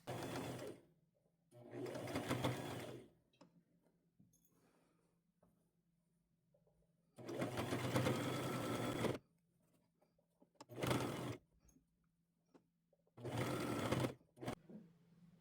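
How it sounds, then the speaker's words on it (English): A sewing machine stitching a pajama fabric seam in four bursts of steady rapid whirring, separated by near-silent pauses with faint handling, close and clear. "I'm going to sew this together with 1/2 inch seam allowance"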